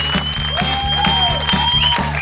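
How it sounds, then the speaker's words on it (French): A television studio audience at a magic show claps beneath a loud, rhythmic music jingle with a pulsing bass line, the scattered hand claps partly buried by the music. "on applaudit très fort"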